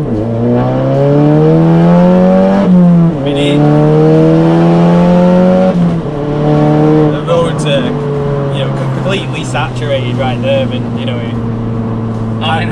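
Stage 3 VW Polo GTI with an IS20 turbo accelerating hard from a pull-away, engine note climbing through the gears with brief drops at shifts, loud and close from inside the car, with a voice talking over it.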